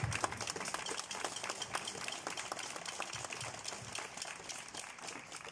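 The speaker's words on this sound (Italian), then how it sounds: "al quale voglio fare un applauso" Audience applause at an outdoor folk concert in Piazza San Pietro, Zollino, honoring a former tambourine player: steady, dense clapping that stays fairly even and moderately distant throughout.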